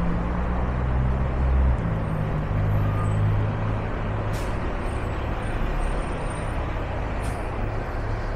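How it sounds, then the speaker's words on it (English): A city bus on a Vancouver street rumbles up to a stop with a low engine drone amid traffic, punctuated by two short hissing bursts of air brakes. "I'm going to stop over here at this bus stop and catch next number 3 downtown"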